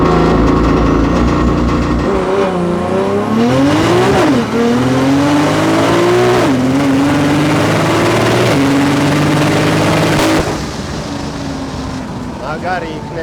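An 800 hp BMW M3 drag car accelerates hard through first, second and third gear, its loud engine climbing in pitch, dropping at each upshift and climbing again, then easing off near the end.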